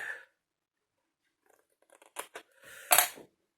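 Scissors trimming the corners of a small folded paper square, heard as a few quiet close snips and crisp paper rustles after a near-silent pause, with a brief voice at the start.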